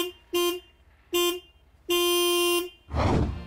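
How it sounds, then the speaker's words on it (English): Toyota GR Yaris car horn giving two short thin beeps and then one longer honk, bright and nasal in tone and quite small-sounding for a sporty hatchback, followed by a brief burst of rustling noise. "this car has such a puny sounding comical horn"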